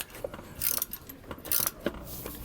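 A hand ratchet clicks in short bursts while tightening a bolt on a Roadmaster rear anti-sway bar fitted to a 2019 Coachmen Pursuit motorhome, the clicks close and fairly quiet with brief pauses between strokes.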